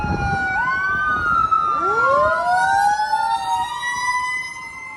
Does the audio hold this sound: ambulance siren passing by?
yes